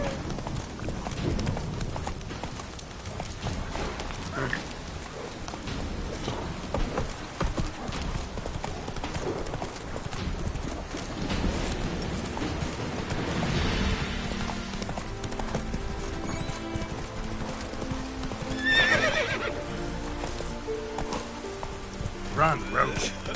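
Roach the horse galloping in The Witcher 3 in rain, with rapid hoof clip-clops rolling steadily under game dialogue and a rush of ambient noise.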